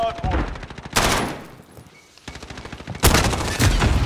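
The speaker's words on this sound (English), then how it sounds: "I was shooting the fuck out of him, but he kept running" Gunfire in a shooter video game, two long bursts of rapid automatic fire, loud and close, separated by a quieter stretch with scattered shots.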